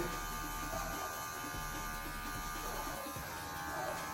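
Electric hair clippers hum with a steady, close buzz throughout a self-haircut taper fade, with faint handling noise beneath.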